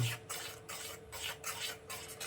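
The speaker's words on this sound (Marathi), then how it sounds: "आता थोडा गॅस मिडियम करते आणि हलवत राहते म्हणजे ढवळत राहते सारण" Mango barfi mixture of Hapus mangoes being stirred in a pan over medium heat: rhythmic scraping strokes of the spoon against the pan, about five sweeps, close and soft, with no talking.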